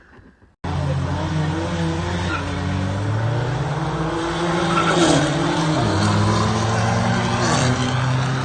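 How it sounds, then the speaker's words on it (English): A car engine roars loud and close as the tires squeal and skip while the front wheels lock up, the revs rising and dipping before a steady drone. "What happened was it just locked up and it skipped the front tires."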